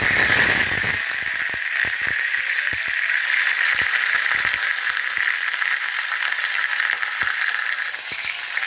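White bean pieces frying in hot mustard oil with black cumin give a steady, close sizzle, broken by scattered sharp crackles and pops throughout.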